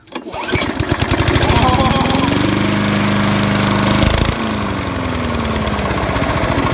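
A Craftsman pull-start engine fires and settles into a loud, steady running drone close by, with a rough rhythmic chug and a slight drop in pitch partway through.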